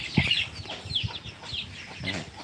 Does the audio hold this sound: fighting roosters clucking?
yes